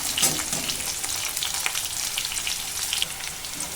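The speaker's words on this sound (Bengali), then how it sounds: "ফুলকপিগুলোকে এভাবে উল্টে পাল্টে ভালোভাবে ভেজে নিচ্ছি" Cauliflower pieces frying in hot oil in a pan as they are turned over, a steady close sizzle with soft scraping stirs throughout, no voices.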